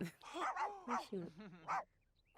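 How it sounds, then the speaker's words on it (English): A dog in The Sims video game barks and yips in quick, high-pitched bursts, close and fairly loud, ending with a brief quiet tail. "Tell your dog to stop barking."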